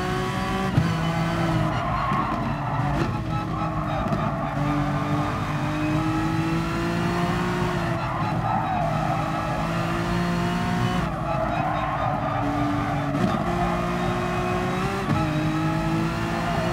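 A Honda race car in the video game Gran Turismo Sport, its engine whining loudly through repeated upshifts while tires squeal and skid through corners, a continuous close roar with a voice faintly heard.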